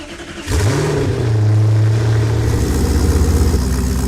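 A Dodge Viper ACR engine in a video game starts and revs hard, a loud sustained roar with a rising whine that settles into a steady rumbling idle.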